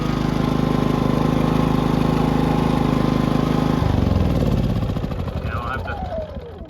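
A Predator 5000 watt generator, damaged and bent from a bad wreck, running with a loud, steady engine drone close by that shifts in tone and slowly winds down toward the end.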